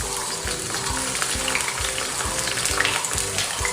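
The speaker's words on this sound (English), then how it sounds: "So I am going to throw one after the other into the hot oil." Green chilies frying in hot oil, a steady dense sizzle with light crackles and occasional stirring scrapes, close and continuous, no talking.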